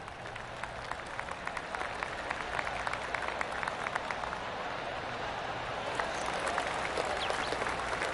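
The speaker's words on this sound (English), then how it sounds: "Oh, I can hear the golf claps around the course." Scattered golf claps ripple around the course in a golf video game, soft and distant patter of applause that swells slightly toward the end.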